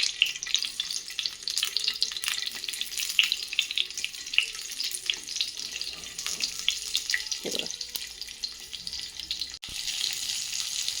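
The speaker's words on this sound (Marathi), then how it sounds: "हा मिरच्या भाजल्याचा सुरू जो आवाज आहे ना तो येणं अतिशय गरजेचं आहे" Capsicum and green chillies roast in a hot pan with a steady, close sizzle and scattered crackles and pops, turning over now and then; no one speaks.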